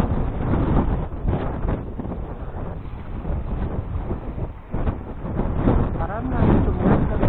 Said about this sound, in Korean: 바람이 많이 부니까 원줄이 많이 날리다 보니까